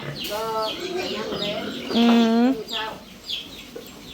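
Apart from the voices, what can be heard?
breeder hens clucking while eating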